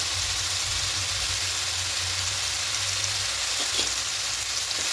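Ginger garlic paste sizzling in a pan of mushrooms for a spicy mushroom kosha, a steady broadband fry hiss that runs unbroken and fairly loud throughout, with no voices.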